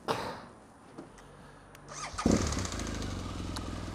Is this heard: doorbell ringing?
no